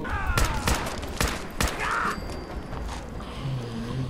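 In Fallout 4 Far Harbor, several sharp gunshots ring out in quick succession, loud and close, followed by mechanical clicks and a quieter stretch of game ambience.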